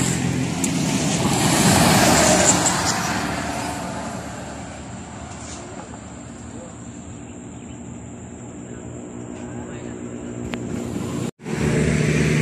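Traffic on a roadside highway beside rice fields swells as a vehicle rushes past near the start, then settles into a continuous low rumble of passing cars, fairly close.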